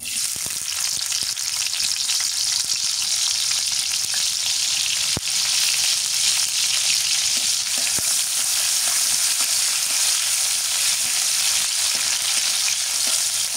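Chopped onion fries in soybean oil in a village kitchen, giving a loud, dense, unbroken sizzle with one faint clink along the way.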